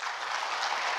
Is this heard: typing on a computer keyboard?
no